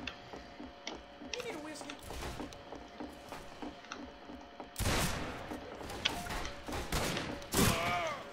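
Gunfire in the video game Fistful of Frags: a string of sharp shots and clicks at varied distances, with heavier bursts later, under quiet voices in a low-level game mix.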